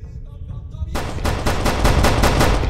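A player's gun fires a fast burst in a Skibidi Toilet versus Cameraman shooter game, around seven loud, evenly spaced shots close up after a quieter, rumbling lead-in, with no speech.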